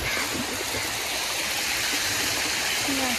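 Natural stream water flowing near a waterfall at a cave temple, a steady close rushing and gurgling wash with brief voices over it.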